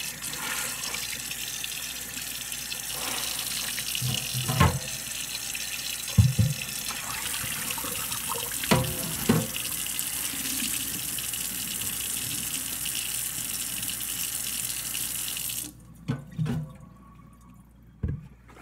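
Tea-stained fabric is rinsed under a running tap, a steady loud gush of water with occasional thumps and splashes that stops abruptly near the end, leaving a few faint drips and handling noises.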